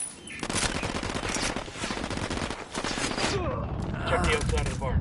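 Gunfire from the video game Ghost Recon Wildlands: dense rapid automatic bursts with overlapping shots, loud and close, continuing over nearly the whole stretch, with voices speaking under the shooting.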